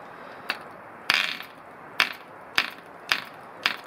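A retro Red Fin 0.49 model diesel engine clacks up close in a run of sharp, separate knocks about half a second apart, a few of them ringing slightly longer.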